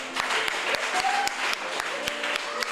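Church congregation clapping in rhythm during a French-language healing and deliverance service, steady loud beats with voices and a sustained tone underneath.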